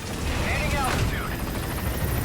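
A helicopter in Metal Gear Solid V drones and thuds steadily through a dense, loud wash of noise, with a brief whoosh partway through.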